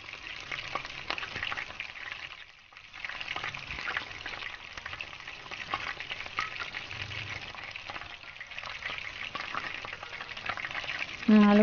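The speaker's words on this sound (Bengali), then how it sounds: "তারপর সরষের তেলে আলুগুলো দিলাম ভাজার জন্য।" Potatoes fry in mustard oil in a wok for a vegetarian festival meal, a busy, continuous sizzle with stirring that dips briefly early on and then carries on steadily.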